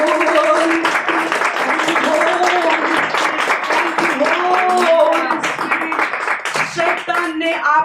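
A church congregation claps during a Hindi worship service, rapid steady clapping from many hands running under a loud voice speaking or singing over it.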